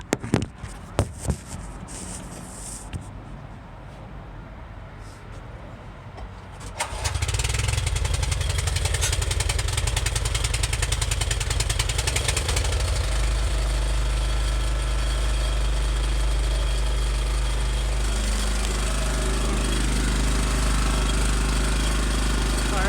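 A cold small gasoline engine with the choke on starts on the first pull after some handling clatter, then settles into a loud, steady, close-up run that continues to the end.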